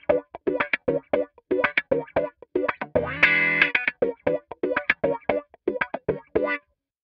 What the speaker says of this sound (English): There's an auto wah setting here if you don't want to use the sweep with your foot